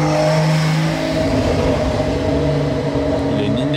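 A Porsche 911 Carrera (992) with an aftermarket exhaust revs hard in Monaco, a rising, raspy, crackling exhaust roar nearby, sustained over a few seconds.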